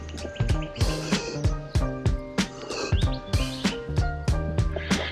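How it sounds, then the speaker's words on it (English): Birds chirp and call in quick repeated phrases through bush along a descending trail, close and clear, with a rhythmic pattern of bright notes and no talk. "Complete with birdsong."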